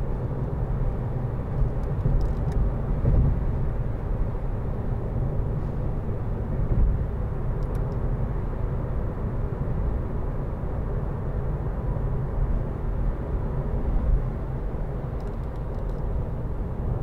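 Steady low rumble of a 2014 Vauxhall Corsa 1.4 ecoFLEX cruising in fifth gear, engine and road noise droning evenly throughout from inside the cabin, with no talking.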